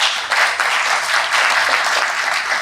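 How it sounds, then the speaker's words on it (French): Steady audience applause at an import-export conference in Côte d'Ivoire, dense and continuous, with many hands clapping at an even level throughout and no talking. "je voudrais vous prier de bien vouloir applaudir et remercier le secteur privé"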